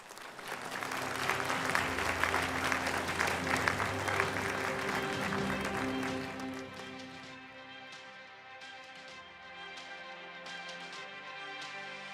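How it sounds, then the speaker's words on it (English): A conference audience at a global peace leaders' gathering gives a full round of applause. The loud, dense clapping lasts about six seconds, then thins into scattered claps while music continues softly underneath. "Let's welcome him with a big round of applause"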